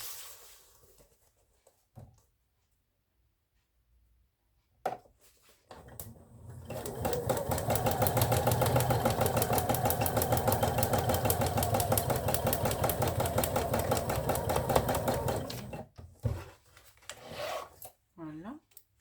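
Domestic sewing machine stitching a quilt block along a marked line on paper foundation, a steady fast whirring run of about nine seconds at close range, bracketed by brief handling clicks and a little talk.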